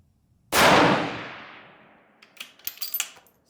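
A single loud, close rifle shot from a new 6 Dasher barrel cracks out and rings off into a long decaying boom, followed by a few faint clicks and rattles in falling snow.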